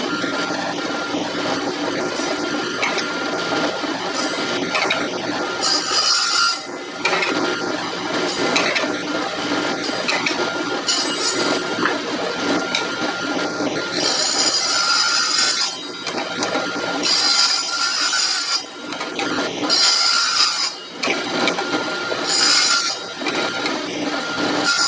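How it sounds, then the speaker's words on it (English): A saw trims cast pieces for a board-game board down to size, running steadily and loudly throughout with a harsh, continuous cutting whir. Several brief louder high-pitched surges occur as the blade bites, and there is no speech. "it didn't take a whole lot, but just enough that it's worth sending to a saw like this"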